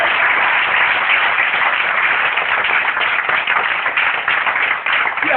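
A church congregation claps steadily in praise of Jesus at a prophetic gathering in a village near Divo. The dense, loud clapping runs without a break and without speech.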